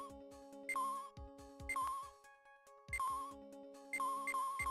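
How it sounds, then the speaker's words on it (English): An alarm clock rings in the Ace Attorney video game, a bright electronic pattern of beeps that repeats about once a second over quiet background music. "The alarm clock."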